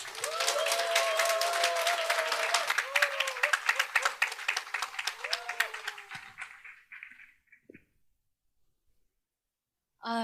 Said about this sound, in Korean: 조금 더 힘내시라고 박수를 크게 해서